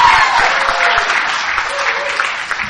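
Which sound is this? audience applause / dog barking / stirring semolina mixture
audience applause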